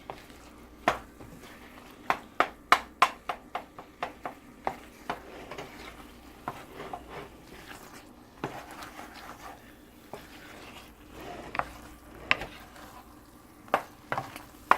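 Pav bhaji mixture stirred in a pan, a steady run of sharp spoon clicks and scrapes against the metal over a soft sizzle, close and fairly quiet, with no talking.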